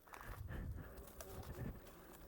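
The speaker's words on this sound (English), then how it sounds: "Pigeon!" A pigeon coos somewhere in overgrown woodland, a soft, muffled call low in the mix under steady ambient rumble, with no one speaking.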